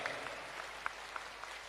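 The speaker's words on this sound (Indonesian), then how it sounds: "Tepuk tangan untuk pesan-pesan yang sangat luar biasa ya." An audience at a scholars' gathering claps after a speech, a soft, distant patter of applause with a few sharper individual claps standing out.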